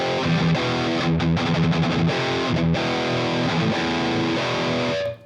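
Distorted rock riff from a Schecter BlackJack electric guitar through a Valeton GP200LT with no EQ applied, chugging chords played close and loud for about five seconds before cutting off abruptly.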